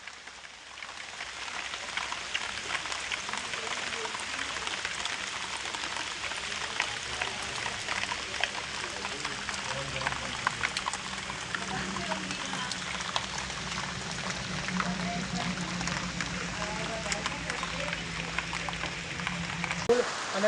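First rain of the season patters steadily across a village, a soft continuous hiss of drops on surfaces with no break.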